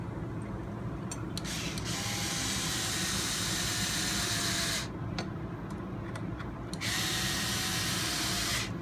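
A power driver whirs continuously as screws go into a new skid plate on an Element RC 4x4 crawler, a steady mechanical buzz with brief pauses and clicks partway through.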